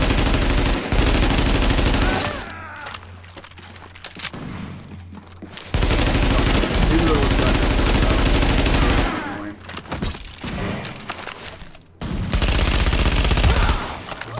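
Vector submachine gun in The Division on PC, loud sustained automatic bursts filling long stretches, broken by short quieter gaps of scattered shots and ambient game noise.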